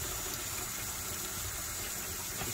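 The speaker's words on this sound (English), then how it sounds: "Now we're gonna add a little bit of water to this." Water pours steadily into an opal treating solution, a continuous close splashing rush with no talk.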